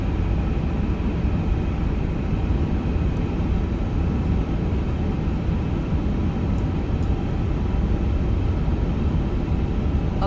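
A heavy Emirates airliner rolls for takeoff in Microsoft Flight Simulator 2024, a steady, loud jet engine roar with deep rumble holding constant and no one speaking.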